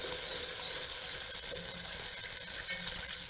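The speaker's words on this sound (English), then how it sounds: "I'm gonna add the rest of our water." Steady, close rushing of water pouring into a pot of curry chicken soup, a continuous hissing splash that holds even throughout with no voices.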